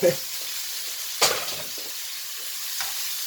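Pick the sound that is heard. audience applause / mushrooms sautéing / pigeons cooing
mushrooms sautéing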